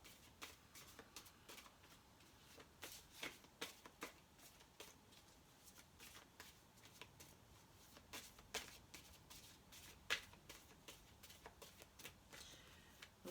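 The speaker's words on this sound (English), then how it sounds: "A lot of shuffling." Soft, repeated riffling and patting of a card deck being shuffled, quiet and close, with irregular bursts over several seconds and no talking.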